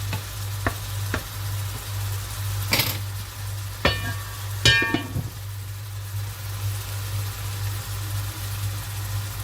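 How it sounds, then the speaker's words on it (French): Pasta cooking in a pan for a minced-meat pasta tagine, stirred with a few sharp clicks and scrapes over a low steady hum and a faint background sizzle, with no speech. "Laissez bien cuire mes pâtes. On les mélange."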